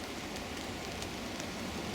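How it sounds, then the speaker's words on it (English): Wind and light rain in woodland during a squirrel pest-control outing, a steady broadband hiss of rain and gusting air close around, with no voices. "You hear the wind now and the rain."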